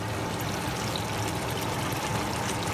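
Water pours steadily into a pot of simmering Jamaican curry goat, a continuous close splashing rush with no voices.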